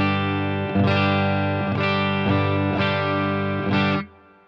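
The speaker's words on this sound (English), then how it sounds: "just guitar into a torpedo cab with some sort of impulse response that I'm digging" Clean electric guitar with no pedals, played through a Torpedo cab simulator with an impulse response: four sustained strummed chords, each ringing out evenly before the next, close and moderately loud, with the last chord fading quickly.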